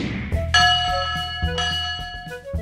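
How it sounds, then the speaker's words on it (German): The big steam train's bell clangs loudly and close, about three ringing strikes in a row, each with a bright, lingering metallic tone. "das war eine richtig laute Glocke von diesem großen Dampfzug"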